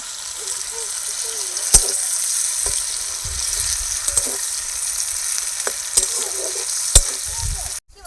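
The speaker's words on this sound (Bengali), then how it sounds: "জিরে, তেজপাতা আর শুকনো লঙ্কা ফোড়ন দিয়ে দেবো। পেঁয়াজ দিয়ে দেবো।" Cumin, bay leaf, dried chilli and onion sizzle steadily in hot oil for Bengali doi katla fish curry, a continuous close frying hiss broken by a few sharp clicks and spatters, with faint voices in the background.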